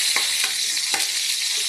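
Mung bean stew ingredients sautéing in a pan, giving a steady bright sizzle of hot oil with a few soft stirring scrapes, close and continuous with no talk.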